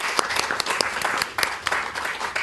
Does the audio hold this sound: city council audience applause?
yes